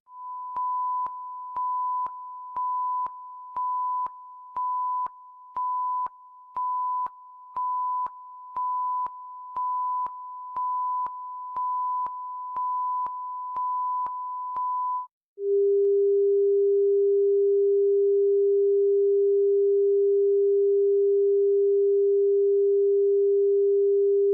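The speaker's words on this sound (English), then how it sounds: "Here are the lineup tones in advance of the CBC Winnipeg weekday morning show." Radio station lineup tones ahead of a weekday morning show: a steady series of short, evenly spaced beeps at one pitch for about fifteen seconds, then a brief gap and a continuous lower sine tone held to the end, clean with no talking.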